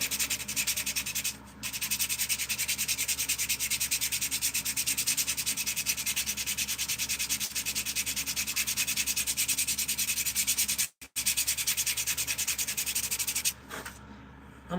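Sandpaper rubs gouges out of a wooden spoon in a fast, continuous rasping stroke, loud and close, broken by two brief pauses and no speech.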